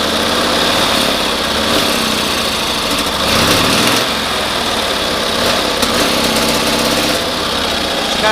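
A Cushman engine runs loud and steady with fresh ignition points, its note surging and stumbling briefly when throttle is added, showing a lean, dead spot before settling back into a rough, continuous run.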